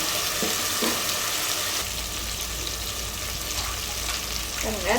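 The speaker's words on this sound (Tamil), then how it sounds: "வெங்காயம் ஒன்று, தக்காளி ஒன்று, இஞ்சி பூண்டு பேஸ்ட்டு இதெல்லாம் சேர்த்துருக்கோம். இப்போ நல்லா வதக்கிக்கலாம்." Onion, tomato and ginger garlic paste sautéing in a pan for a homestyle chicken gravy give a steady, close, broad sizzling hiss throughout, with faint stirring.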